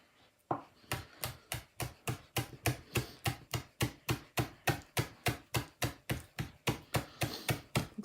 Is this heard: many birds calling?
no